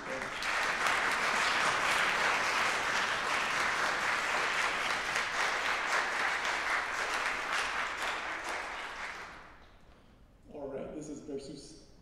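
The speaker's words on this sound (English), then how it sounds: "Join me in a round of applause for those people." Audience applause at a school fall concert: sustained, dense clapping from a large crowd that holds steady for about nine seconds, then fades out and gives way to a voice speaking.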